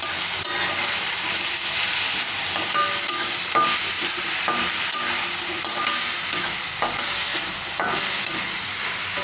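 Turmeric roasting in hot oil in a pan while being stirred, giving a loud, dense, steady sizzle with periodic scraping strokes of a spoon across the pan, no voices.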